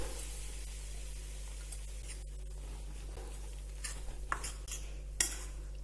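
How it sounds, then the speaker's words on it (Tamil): Ground fried gram being stirred into hot ghee in a metal vessel with the stove off: scattered clinks and scrapes of a spoon against the pot over a constant low hum, close and fairly quiet. "இந்த நெய்யிலே நல்லா கிளறி விட்டுருங்க."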